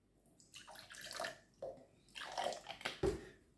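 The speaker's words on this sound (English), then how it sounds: "a little bit of water in the glass." Water trickles and splashes softly into a glass in short bursts, close and quiet.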